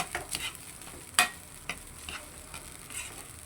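Mung bean soup stirred in a pot: a spoon scrapes and knocks at irregular moments, with one sharp clack standing out, over a soft, steady background hiss.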